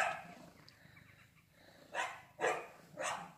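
Several dogs bark in the background inside a home, three short barks near the end of the stretch after quieter room noise.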